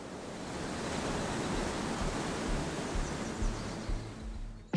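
Ocean surf as an added ambient sound effect, a soft steady wash of rolling waves and hiss, faint and continuous with a few low bumps near the end.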